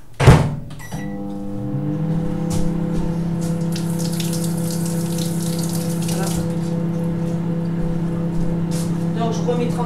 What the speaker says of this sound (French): Je remets 30 secondes dans le micro-ondes pour que ça fonde complètement